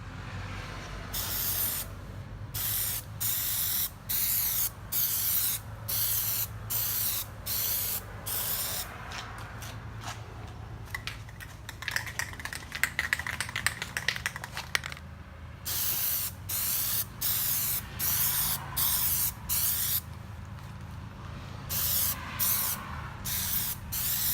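Repeated bursts of aerosol Plasti Dip spraying onto car taillights, each hiss lasting about a second with short gaps, close and loud with no talk.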